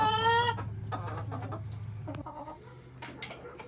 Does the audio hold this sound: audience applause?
no